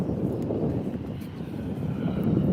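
EasyJet Airbus A320 at Manchester Airport, heard as a steady, fairly distant roar of jet engines with broad rumbling noise and no talk.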